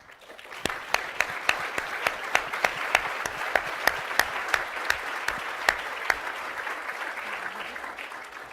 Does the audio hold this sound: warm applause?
yes